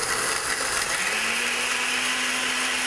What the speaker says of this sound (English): I have a machine that's probably about as old as your average medieval lifespan, but works just as well, mainly a blender. So turn the thing on